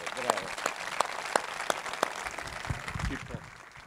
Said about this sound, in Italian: li vorrei ricordare con un buon applauso